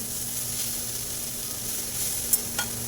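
Thecha, a coarse green chilli relish, being sautéed in a pan, a steady soft sizzle with a couple of brief scraping clinks from stirring near the end, no one speaking.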